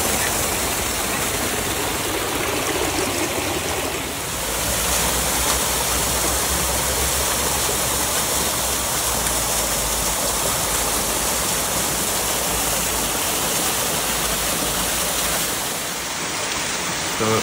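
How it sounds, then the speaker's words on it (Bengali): Water flows continuously beside a lake in the 150-year-old Parc des Buttes-Chaumont in Paris, a loud, steady rushing cascade that fills the whole scene without any voices. "পানির শব্দটা অসাধারণ"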